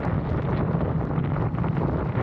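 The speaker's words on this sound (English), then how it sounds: "The wind is hitting me on my face and chest." Heavy wind buffets the rider on a motorcycle cruising the highway with no wind protection, a constant loud roaring rumble pressing against the microphone with no talking.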